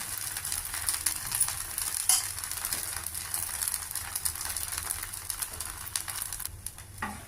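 Oil sizzles around a wheat rava dosa cooking on a pan, a soft continuous frying hiss with scattered small crackles and light ticks, fairly quiet and steady, ending with a brief scrape near the close; no one speaks.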